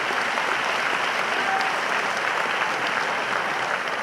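A crowd claps steadily and continuously at a presidential debate as candidate Professor Venantius Bariamureba takes the stage, dense even applause with no pauses.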